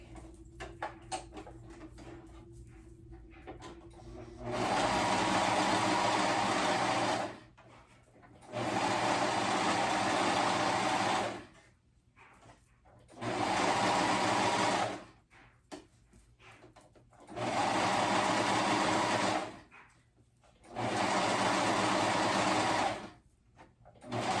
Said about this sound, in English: So I'm going to do my cover stitch. I'll start at the back and sew it right at the edge of that elastic.